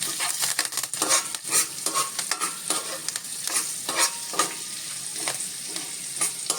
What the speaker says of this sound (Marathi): हे थोडेसे कढीलिंब जरासा सगळा घालतोय आणि जरा परतून घेतो फोडणी